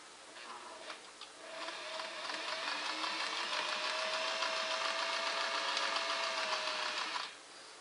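A Singer Model 404 sewing machine stitches steadily for several seconds, a close, even mechanical whirr with a rapid ticking rhythm that winds down at the end.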